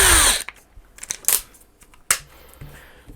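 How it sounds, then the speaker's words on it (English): A power drill with a 5mm bit bores into potting compound inside a Honda Civic MK8 power folding mirror unit, with a loud opening whir and then short bursts of drilling separated by quiet pauses. "see if we can drill some of that out"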